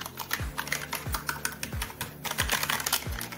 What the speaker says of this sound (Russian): давайте звук клавиш